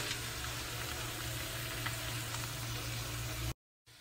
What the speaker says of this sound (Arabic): الآن حضيف البصل.